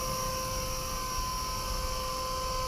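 A small Blade SRX200 RC helicopter hovers nearby, its electric motor and rotor giving a steady, loud whine with a constant pitch throughout and no speech.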